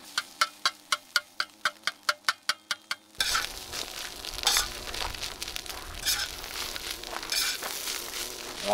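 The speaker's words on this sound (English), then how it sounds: "I'm just gonna let the eggs cook fully, and then I'm gonna mix everything back up" Eggs frying on a Tembo Tusk Skottle griddle: a run of about a dozen sharp, evenly spaced taps opens, then gives way to a steady close sizzle with occasional crackles.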